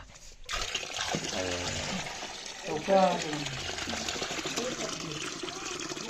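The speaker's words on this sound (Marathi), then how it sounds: "पाण्याला पाणी आलंय" Water gushes and trickles steadily in a Konkan home during Ganpati preparations, a continuous splashing flow heard close by, with people talking over it.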